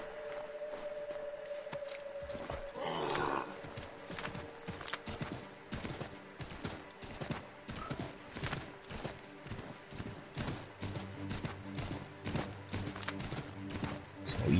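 A horse in Assassin's Creed III Remastered runs with rapid clip-clopping hooves in a steady driving rhythm, close and clear, after an early whinny, with game music underneath.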